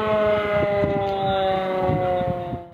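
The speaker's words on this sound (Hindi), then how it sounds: "मीरपुर आजाद कश्मीर में मंगला पुल पर सुबह 10 बजे 1 मिनट की खामोशी इख्तियार करके सायरन बजाया गया" A civil defense siren wails steadily at Mangla bridge in Mirpur, Azad Kashmir, during a minute's silence at 10 am, a loud sustained tone with faint scattered thumps beneath it that fades near the end.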